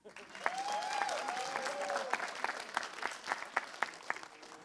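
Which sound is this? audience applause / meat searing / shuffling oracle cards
audience applause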